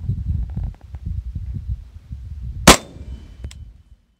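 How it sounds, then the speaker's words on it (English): A gunshot fired at a steel plate from 20 feet, a single sharp loud crack with a brief ringing tail, preceded by low handling thumps and followed by a fainter tick. "So I will load up and we'll take our first shot here."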